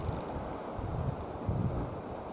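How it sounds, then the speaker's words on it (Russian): Strong wind buffets the microphone outdoors in snowy hunting country, a continuous rough roar with gusts swelling and easing. "Очень ветрено на улице становится."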